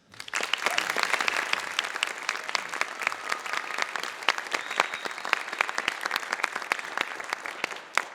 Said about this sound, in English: Can we get one more round of applause, please?